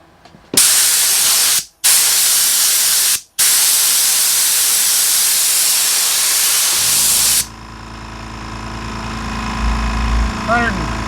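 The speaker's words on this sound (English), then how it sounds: "135 psi is where it kicked in" Husky 4.5 gallon quiet job site air compressor with a blower nozzle: loud, close bursts of rushing air, stopped twice by short gaps, then the compressor motor hums and rises steadily as the tank refills.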